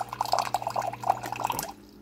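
Water pours from a container into a bowl for brownie batter, a close, bubbly glugging with quick irregular splashes over a low hum, ending abruptly into quiet.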